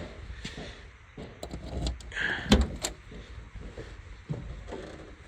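Trunk lid of a 1970 Plymouth Road Runner opening: a sharp metallic latch click and clunk mid-clip among soft handling rustles and shuffles, close and fairly quiet.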